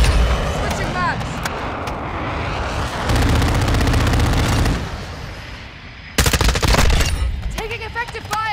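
Rapid bursts of automatic gunfire in Call of Duty: Modern Warfare II crackle loud and close, with dense rattling stretches, scattered shots and radio-style voices talking between them.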